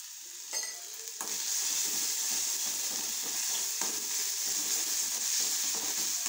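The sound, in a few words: sautéing egg burji with sheep brain in a pan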